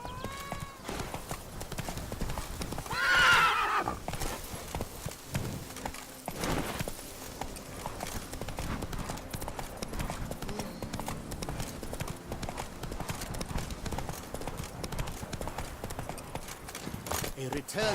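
Hooves of a ridden horse clip-clop in a steady rhythm at moderate distance, a brief whinny-like burst rising early on, with talk and a busy background running throughout.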